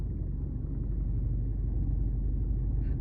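Idling car engine of a learner driver's vehicle easing off the clutch mid U-turn, a steady low rumble close by with no voices, holding even throughout.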